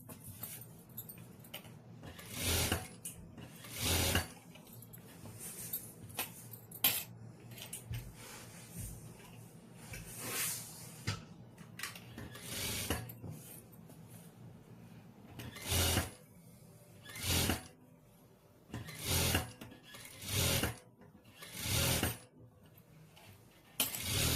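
A sewing machine stitches along a folded moti-bead neckline in repeated short bursts of rapid whirring, starting and stopping many times, close and clear with quiet gaps between runs and no speech.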